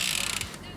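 A Jamis Hardline bicycle's chain spins while being brushed, a quick whirring, ticking mechanical rattle from the drivetrain, close and faint, lasting under a second.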